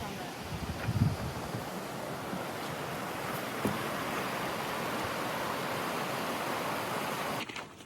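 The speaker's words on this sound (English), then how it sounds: "That's the type of water you look for when you're trying to filter, like running, clear water." Steady broadband rush of clear running stream water beside Spruceton Road near Hunter in the Catskills, continuous and fairly close, with a brief bump near the start and no talking.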